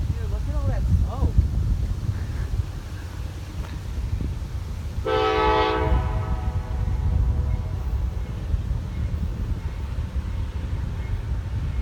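A CSX freight train, number 216 on the Rochester Subdivision, sounds its horn in one loud blast of about a second midway, over wind buffeting and a low rail rumble, with people talking nearby.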